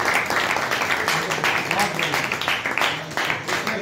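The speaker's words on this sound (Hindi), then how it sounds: "जोरदार तालियां।" Applause from an audience at an agricultural training session in Aholana, Haryana, a dense, steady wash of many hands clapping that fills the whole stretch with no talk on top.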